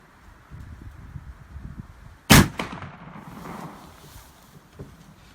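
A single loud, sharp gunshot from a Rosler rifle fired outdoors, followed by a rolling echo that fades over about a second, with faint wind and background noise around it.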